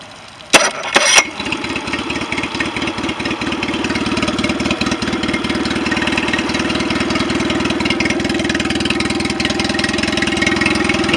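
A 2019 Mercury 9.9 HP outboard with freshly cleaned carburetors cranks with a short sputter, catches, then settles into a steady, close, even idle that carries on alone.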